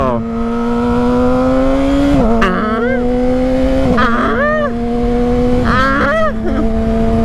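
A Yamaha R6 motorcycle doing clutchless downshifts, heard loud and close from the rider's position: a steady engine drone broken by several sharp blips as revs jump and fall with each downshift.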